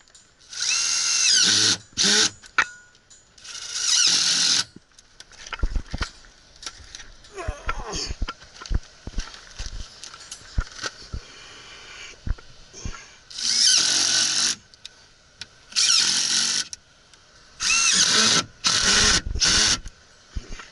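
A power drill whirs in repeated short bursts, driving screws into HVAC return ductwork with pauses, thumps and handling noises between runs.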